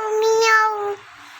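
A young boy imitates a cat's meow with one drawn-out, nasal mew lasting nearly a second. It is clear and close, then fades into quiet.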